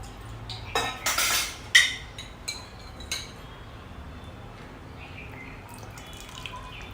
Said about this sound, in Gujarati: થોડું એની અંદર પાણી ઉમેરી લઈશું